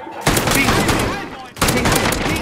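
Two loud, heavy shotgun blasts in a video game, each booming and trailing off, with the second arriving about a second and a half after the first.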